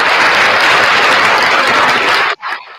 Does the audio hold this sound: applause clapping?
yes